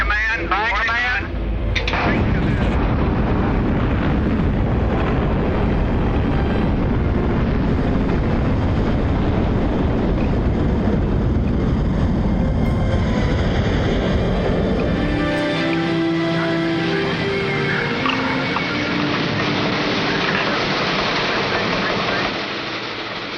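Roar of the Explorer One rocket launch, a loud, sustained broadband rumble after a brief countdown lead-in, holding steady for many seconds before the low end thins and tonal hiss remains near the close.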